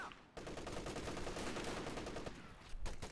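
Rapid small-arms gunfire from units target firing in a real-time strategy match. A dense, close, continuous crackle of shots runs for about three seconds, with a sharper burst at the end.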